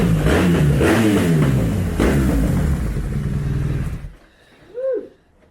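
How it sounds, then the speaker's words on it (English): A 2011 Harley-Davidson Ultra Limited's exhaust revs loudly and roughly for about four seconds, then cuts off, followed by a short, quieter whine before fading out. "Listen to this exhaust"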